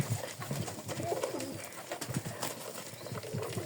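Pigeons coo repeatedly while feeding outdoors on scattered food, soft throaty calls close by over a noisy, rustling background, with no talk.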